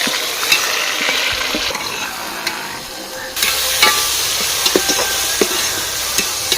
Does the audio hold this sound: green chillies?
yes